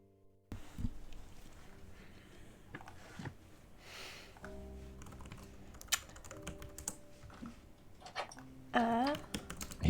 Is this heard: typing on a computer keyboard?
yes